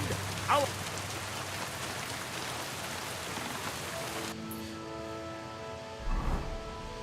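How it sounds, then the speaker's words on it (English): Steady rain falls in Kingdom Come: Deliverance II, a dense continuous hiss of drops on surfaces that runs throughout; partway through a low musical tone joins underneath, and a brief soft thump comes near the end. "Don't mind the rain."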